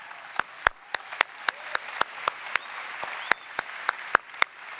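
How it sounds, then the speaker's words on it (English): Sparse clapping from a small audience at a Shopify Build Awards ceremony, a dozen or so distinct, sharp claps spaced irregularly over a few seconds against a quiet room. "you can clap"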